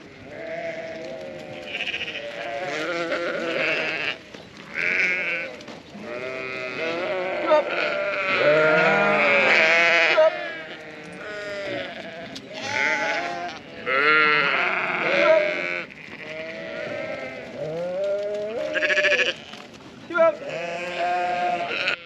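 Many ewes bleat over and over, overlapping calls from a flock nearby during lambing season, loud and almost continuous.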